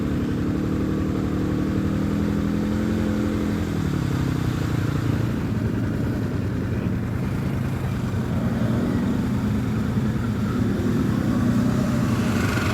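A CFMoto CF 500 quad bike, slightly smoking, idles and runs with a steady mid-pitched engine drone, loud and close, with a brief rev near the start before settling into a constant rumble.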